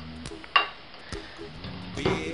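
Sausages added to a pan and frying, with a few clinks and scrapes of utensils over a low sizzle, close and fairly quiet.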